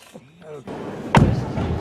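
An Acura car door shuts at an auto show with a single solid thump, set against a busy indoor background, with a voice speaking just before it.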